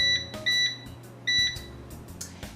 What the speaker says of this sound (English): And we'll set the timer for 20 minutes.